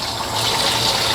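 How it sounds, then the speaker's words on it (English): A loud, steady rush of water spraying hard from a bathroom faucet pipe during a faucet replacement, filling the whole moment with hissing splash. "how much water was gonna spray out of there."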